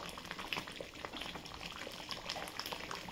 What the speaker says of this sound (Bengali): একটু ফুটিয়ে নিলাম।